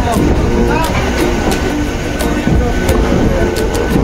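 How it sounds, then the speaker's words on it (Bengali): A passenger train runs towards Puducherry in South India, a loud steady rumble heard from inside the carriage with rhythmic clicking of wheels over rail joints, while people talk over it. "ট্রেন মোটামুটি ঠিক টাইমেই চলছে"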